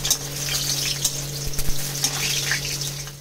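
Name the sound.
lentil dumplings (bori) frying in hot oil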